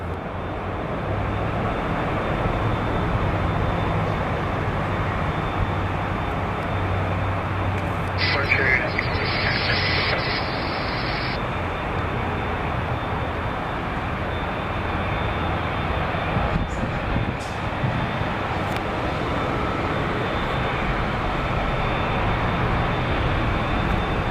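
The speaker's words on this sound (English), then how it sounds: "We got Delta 737-800. This one will be going to Atlanta." Delta Boeing 737-800 airliner bound for Atlanta at a Seattle airport: a loud, steady broadband jet roar that holds without letup, with a brief higher whine near the middle.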